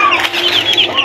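A chicken makes a close, loud burst of clucking and squawking calls in an outdoor rural setting.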